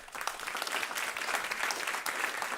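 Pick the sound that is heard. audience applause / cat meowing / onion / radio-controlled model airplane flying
audience applause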